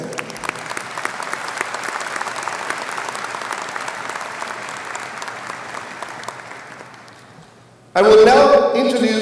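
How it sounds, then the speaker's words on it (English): Sustained applause from a large crowd at a high school graduation ceremony honoring the Laredo ISD Cabinet, fading gradually over several seconds before a loud amplified voice cuts in. "please give a big round of applause to Laredo ISD Cabinet"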